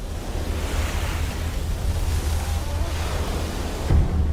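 Ocean waves wash along the Fiji coastline, a continuous loud roar of surf with a low rumbling undertone and wind buffeting the microphone, no voices heard.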